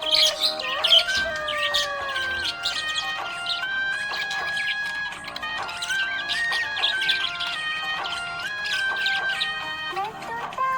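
A happy budgie chirps continuously, bright warbling tweets and whistles in quick irregular runs, close and fairly loud throughout with no talk.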